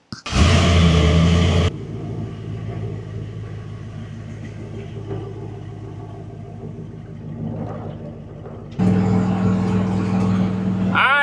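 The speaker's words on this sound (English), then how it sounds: "Truck seems to be running all right." A Chevrolet C10 pickup with a naturally aspirated engine cruising toward town, a steady low engine and road rumble inside the cab, with louder bursts at the start and end.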